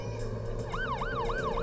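Ambulance siren wailing in repeated rising-and-falling sweeps, loud and close over a steady engine hum, with no voices.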